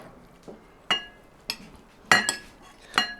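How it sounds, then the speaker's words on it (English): A utensil clinks against a bowl as leftovers are mixed with homemade barbecue sauce, five or six sharp, separate taps at an uneven pace, close and fairly quiet, no voices. "We're going to mix it all the way around"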